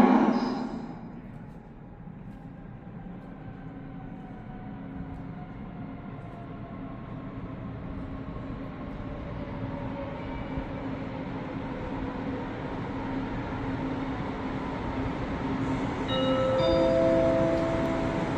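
An S-Bahn train pulls into a Munich platform on the trunk line, a steady rolling rumble with rising whines and squealing brake tones building toward the end. No voice is heard over it.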